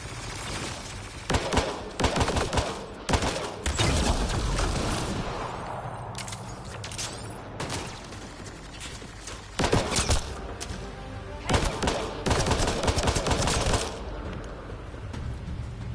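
Pistol gunfire rings out in the Mass Effect Andromeda video game: repeated sharp shots come in bursts over a continuous battle din, loud and close, with heavy thumps between volleys and no talk.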